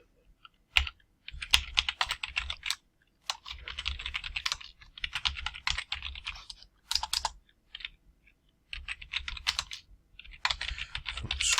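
Code being typed on a computer keyboard: close, steady runs of rapid key clicks in several bursts with short pauses between, no voices.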